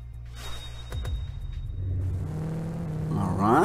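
A Range Rover in Top Drives revs hard, its low engine rumble building after a quick whoosh. The pitch climbs steadily toward a loud, rising whine at the end, close and continuous.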